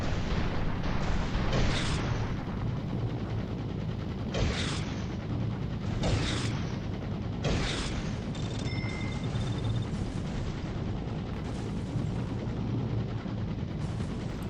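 Flak cannons firing in a war video game, a steady roar of heavy ordnance with repeated booming bursts over continuous rumbling battle noise and a few faint electronic tones.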